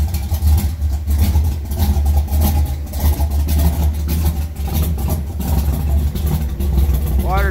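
Car engine running on E85 through a carburetor, idling cold at roughly 700 to 800 rpm; a steady, loud, lumpy low rumble continues throughout.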